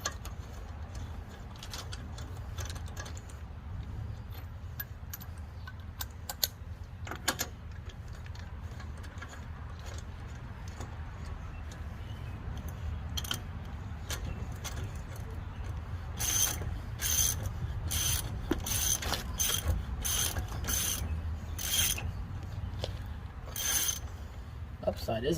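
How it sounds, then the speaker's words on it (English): A ratchet clicks in quick bursts while car lug nuts are tightened, with clearer rapid runs of clicks later on, and birds cooing faintly in the background. "See if I can get one of these lug nuts to start."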